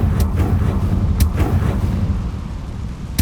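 A Confringo fire spell bursts in the Hogwarts Legacy video game, sending out a few sharp, loud blasts over a dense, crackling rumble that carries on throughout.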